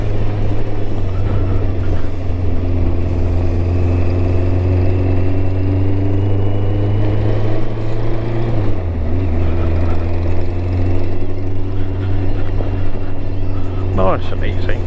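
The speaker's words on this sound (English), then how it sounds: "I'll get Alex working through his gears." A Yamaha XJ900 Diversion motorcycle engine drones steadily and loud, pitch climbing through each gear with a dip at a gear change midway, under wind noise and a voice talking over it.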